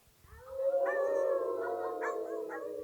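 A storyteller imitates a wolf howling with his voice, one long, sustained, wavering howl rising in pitch and held for over two seconds, loud and close.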